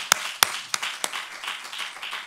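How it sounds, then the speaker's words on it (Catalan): A few sharp, close handclaps open a thinner patter of applause at a university social media awards ceremony, the clapping loose and scattered rather than a full ovation. "Un aplaudiment."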